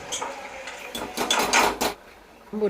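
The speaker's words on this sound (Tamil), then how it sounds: "இப்போ குழம்ப கிண்டி விட்டுக்கலாம்" A utensil scrapes and clanks against a metal pot of curry in a run of quick stirring strokes, close and fairly loud, then trails off.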